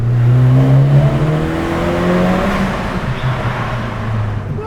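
A Mercedes C180 with an aftermarket exhaust idles and revs close by, a smooth low engine drone with a couple of gentle rising revs that settle back into a steady hum.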